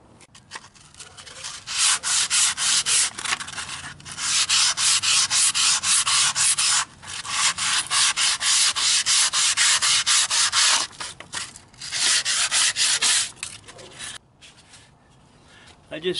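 180-grit sandpaper rubs rust off a semi truck axle in quick, close scratchy strokes that run almost continuously, with a few brief pauses.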